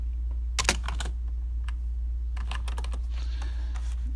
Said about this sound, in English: Then they would type in their name,